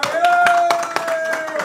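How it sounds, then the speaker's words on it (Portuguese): Quick, sharp claps sound as a guest is welcomed on a music and art talk show, the rhythmic handclaps coming through under a steady sustained tone from a voice or instrument. "senhoras e senhores, salve de palmas"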